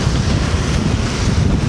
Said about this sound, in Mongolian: яг нэг голын дээр гараад ирэхээр амар салхитай байна